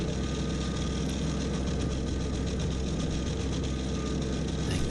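Small Kubota BX25 compact tractor engine running steadily with a 5-foot sickle bar mower attached, a continuous close, loud drone with a faint rattle and no talking.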